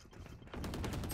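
Gunfire in the tactical shooter Valorant. A quieter stretch gives way to a rapid, steady burst of shots that continues to the end, with no voices.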